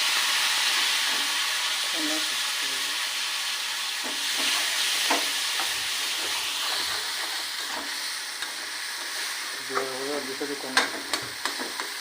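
Spices and taro frying in a pan for a prawn and taro curry, a steady soft sizzle and hiss with occasional stirring clinks near the end.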